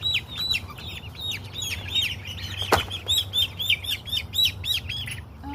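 Young chicks chirp in a rapid, continuous stream of high peeps mixed into a mature chicken flock, with one louder, sharper call cutting through midway and a low background hum throughout.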